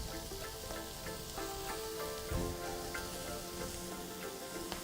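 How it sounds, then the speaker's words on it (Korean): Seaweed stems stir-fried in a pan with enoki mushrooms and cherry tomatoes sizzle quietly and steadily, with soft crackles and occasional light scrapes. "그때 팽이버섯이랑 방울토마토를 넣고 한 번 더 볶아줍니다"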